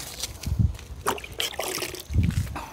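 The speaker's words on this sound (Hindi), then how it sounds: "और दोनों में थोड़ा थोड़ा पानी भी डाल देंगे अभी" Water poured by hand into two foam sprayers, a garden pump spray bottle and an IK Foam Pro 2, giving short sloshing splashes and trickles in two separate bursts, close and fairly loud.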